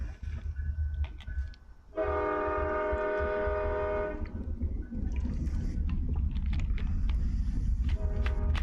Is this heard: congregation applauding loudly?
no